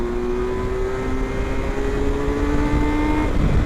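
A Kawasaki Versys LT 1000 motorcycle accelerating onto an interstate, its engine note rising steadily in pitch through a gear under loud wind rush, heard close from the rider's seat with no talk.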